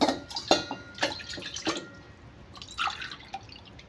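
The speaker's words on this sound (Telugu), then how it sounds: "సో ఇప్పుడు గిన్నెలోకి 3 గ్లాసెస్ వాటర్ యాడ్ చేసుకుంటున్నాను" Three glasses of water poured into a cooking pot in a kitchen, heard as a few close, splashy pours and drips with small clinks of vessel against vessel, fading to quiet trickles toward the end.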